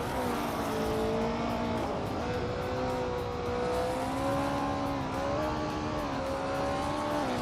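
Race cars, among them a vintage 1972 Lola T 290, roar together in a steady, loud drone of engines with shifting pitch as they jostle and rev through the pack.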